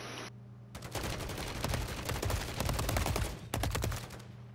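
Rapid enemy gunfire in a Call of Duty zombies match, loud bursts of automatic shots in quick succession with a brief pause midway before the firing resumes.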